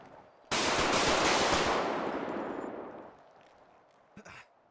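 Sustained rapid automatic gunfire from a video game police academy shooting drill bursts in loudly, rattles for about two seconds, then decays into echo, with a brief extra shot near the end.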